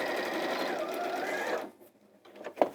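A domestic sewing machine hums in a fast, even whir as it stitches fabric around curves, then stops abruptly, followed by a soft clack of handling.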